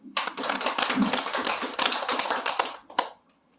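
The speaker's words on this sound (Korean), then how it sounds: "박수" A crowd at a Buddhist Baekjung ceremony claps steadily for about three seconds, dense and loud, ending with a final clap before fading into quiet.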